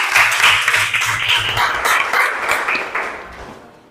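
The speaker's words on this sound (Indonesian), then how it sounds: "Tepuk tangan untuk kelompok 1." Classroom applause for a student group after its presentation: a burst of enthusiastic group clapping, loud at first and gradually thinning out over a few seconds.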